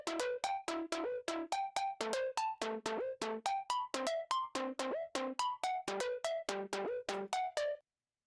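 A bright synth lead from a Serum preset pack plays a fast run of short, plucky staccato notes in a steady rhythm for about eight seconds, loud and close with no other sounds.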